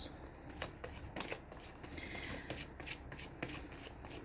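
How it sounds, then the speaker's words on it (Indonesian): Tarot cards shuffled by hand close up, a quick run of crisp riffles and flicks repeating in short bursts, fairly quiet, with no voice over them. "Sambil saya baca doa dan saya kocok kartunya"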